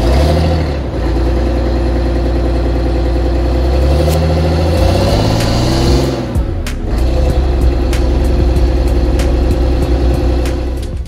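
A converted bus's engine rumbles loud and close, idling then revving as it pulls away and drives on, with a continuous deep drone throughout.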